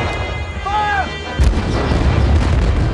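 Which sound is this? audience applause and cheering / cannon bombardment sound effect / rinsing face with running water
cannon bombardment sound effect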